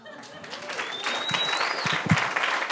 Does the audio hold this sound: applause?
yes